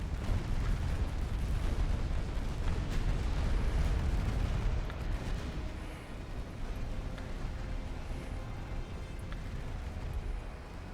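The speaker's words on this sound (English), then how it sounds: "Where are you shooting? Oh, you're shooting at the battleship." Warship guns in the naval battle game Ultimate Admiral Dreadnoughts, firing as a continuous rumbling barrage of booms and bursts that is louder at first and then settles into a steady, slightly softer roar.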